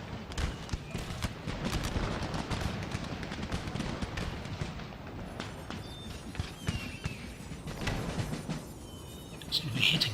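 Musket gunfire in an Empire: Total War battle, a ragged crackle of scattered volleys and shots over a busy battlefield din, with someone talking over it.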